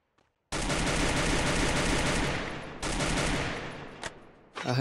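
Sustained automatic gunfire in the Free Fire video game, one long, loud, continuous burst lasting about four seconds, followed by a brief pause and a short extra shot.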